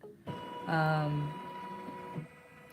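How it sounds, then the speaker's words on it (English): A Janome Continental 17 embroidery machine with a large 12x19 hoop sews a line, its steady mechanical whirring and tonal hum running under a person talking, briefly louder in the first half. "you can see that it's going to sew this line here"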